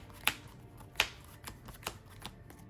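Playing cards are drawn and shuffled in a series of crisp snaps and riffles, several sharp flicks spaced under a second apart, close and distinct.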